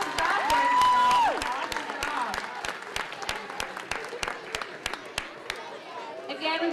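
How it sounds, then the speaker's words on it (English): Applause from a school winter concert audience, a steady wash of many hands clapping throughout, with a sustained vocal or organ tone early on and crowd chatter mixed in. "Let's give them one more round of applause"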